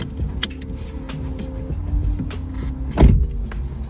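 A seatbelt being pulled across and buckled inside a 2024 Toyota Prius LE: soft rustling and small clicks, then a sharper latch click near the end, close and quiet in a calm cabin.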